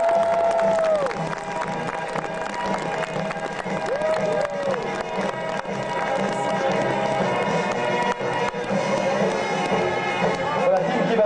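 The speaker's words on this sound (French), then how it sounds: "Je vous demande vos ovations également" A crowd at a sled dog race claps and cheers steadily throughout, with music and a French-speaking announcer's voice running over the applause.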